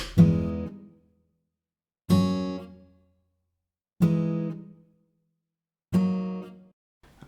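Four MIDI chords played slowly, each struck once and left to decay to silence before the next, evenly spaced and fairly soft, with no voices.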